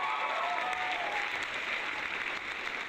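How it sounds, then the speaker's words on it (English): A dense, steady wash of crowd applause for a competitor at a mobile game tournament event, continuous and even throughout, heard from a distance at moderate loudness with no clear voices on top. "Let's give him a round of applause"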